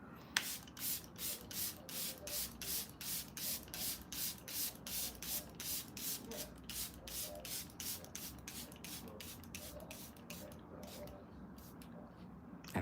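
Setting spray misted over a made-up face from a pump bottle, a steady run of short close hissing bursts in quick even rhythm, slowing and fading toward the end, with no talking.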